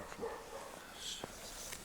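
A young hunting hound barks a few times, faint and far off, during a fox hunt with hounds outdoors, the sharp yelps spaced out over a quiet background.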